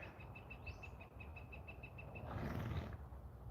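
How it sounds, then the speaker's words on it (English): Birds near a horse paddock give a rapid series of repeated high chirps over steady outdoor rumble, fairly close and loud, followed by a rising squawk before fading out. "Noisy birds."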